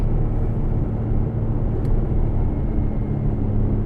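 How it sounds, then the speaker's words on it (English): Gator utility truck driving down a farm road, a steady low engine rumble heard from inside the vehicle, continuous and fairly loud. "Farmer Bill and I hop on his Gator truck and drive down the road to see the site of this proposed solar project"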